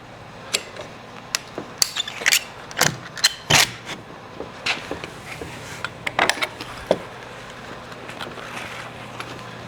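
Ratchet straps being released from a grand piano during a move, giving irregular clicks and metallic clacks in short bursts, close and fairly loud, with no speech.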